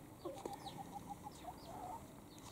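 Chickens in a front yard give a run of soft, faint clucks and short chattering calls, repeated every fraction of a second at a distance over a light background hiss.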